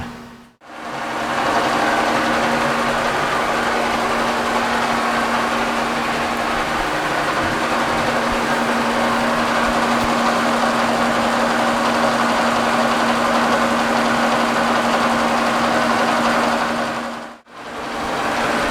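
A metal lathe takes a facing cut across the end of a metal part to square it, giving a steady, loud machining drone with a constant motor hum that runs unbroken for most of the clip, stopping briefly at the start and near the end.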